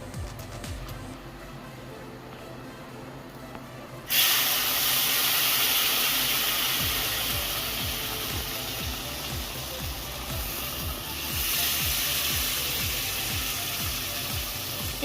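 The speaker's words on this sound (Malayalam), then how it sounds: "ഇനി നമുക്ക് ഇതിലേക്ക് ചൂടുവെള്ളം ഒഴിച്ചു കൊടുക്കണം." Hot water poured into roasted rava (semolina) in a pan for rava kesari bursts into a loud, steady sizzling hiss partway through, following a quieter stretch of faint pan noise, and keeps hissing to the end.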